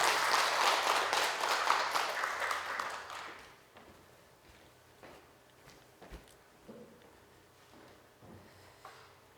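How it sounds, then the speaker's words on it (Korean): A congregation claps at a Korean church ordination ceremony, a sustained round of applause that fades out after a few seconds, followed by a quiet room with scattered bumps and shuffling. "다시 한번 큰 박수로 격려해 주시기 바랍니다."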